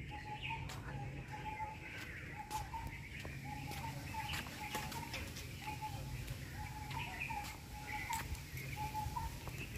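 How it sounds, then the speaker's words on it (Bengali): Birdsong from bulbuls, doves and owls in a botanical garden at Shibpur, faint and distant, with repeated short calls recurring in a steady pattern over a soft ambient hum. "উপরটা প্রচুর বুলবুলি পাখির আওয়াজ পাওয়া যাচ্ছে, ঘুঘু পাখি, পেঁচা।"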